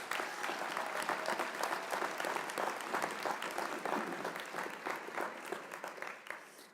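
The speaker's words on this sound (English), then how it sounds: "can we just give a round of applause to all of our nominees?" Sustained applause from an audience at a university convocation and awards ceremony, honoring the nominees; dense, steady clapping that fills the room and continues for several seconds before easing off at the end.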